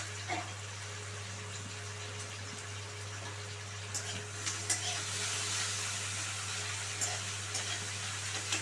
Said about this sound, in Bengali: ব্রাউন করে ভেজে নিতে হবে, যেমন বেরেস্তা করে